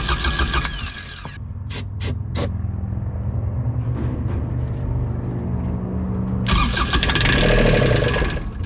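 A Kubota RTV900 utility vehicle engine cranks on a new starter, a loud close grinding whir in bursts with brief clicks between, then a second long crank; no talk.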